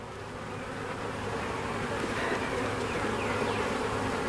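Honey bees buzz steadily around an opened hive during a first spring inspection after a cold Texas winter, a dense, continuous drone at moderate level with no talking.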